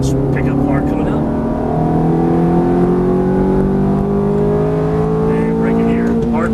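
A Ferrari F430 engine climbs hard out of a track corner, its loud, rising whine of gliding harmonics building steadily as the car accelerates, with the driver talking over it.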